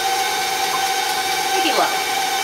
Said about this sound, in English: So just let it mix at, like, medium-low speed.